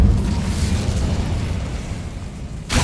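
Incendio fire spell cast in the Hogwarts Legacy video game: a loud, steady roaring, rumbling whoosh of flame lasting nearly three seconds, ending in a sharp bright burst.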